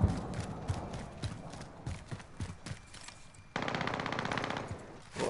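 Rapid bursts of video game gunfire crackle in uneven volleys, then settle into a dense, steady stream of automatic fire near the end, with no talking.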